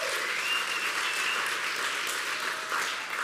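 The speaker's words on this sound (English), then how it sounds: "Give him a round of applause" A church congregation breaks into a round of applause, a dense, continuous roar of clapping that holds steady for a few seconds with faint cheering mixed in.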